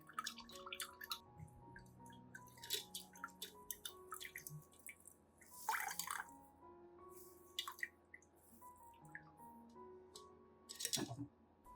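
Plant-extract liquid dripping through a filter while an orchid feeding solution is prepared, with quiet, close drops falling at an irregular pace, some in quick clusters and others spaced apart, and no voices.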